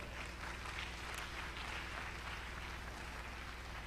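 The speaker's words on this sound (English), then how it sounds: "We can clap well." Wedding guests at a church ceremony clap together, a dense, steady wash of many hands that goes on evenly throughout with a low hum underneath.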